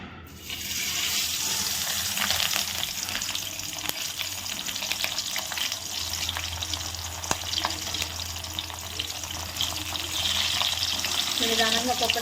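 Taku fish wrapped in banana leaf frying slowly over a low flame, giving a steady, dense sizzle that runs unbroken throughout, with a few faint clinks near the end.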